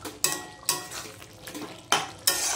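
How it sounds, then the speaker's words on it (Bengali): Potatoes being mashed into a cooking curry in a pan, with a few sharp scraping and pressing strokes against the metal, close and fairly quiet, with no talk. "যে আলুগুলো একটু একটু ম্যাশ করে দিতে হবে।"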